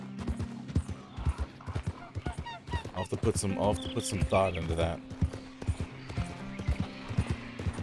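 Horses in the stables in Red Dead Redemption 2 give off close hoof clip-clops and scattered animal calls while someone talks over them.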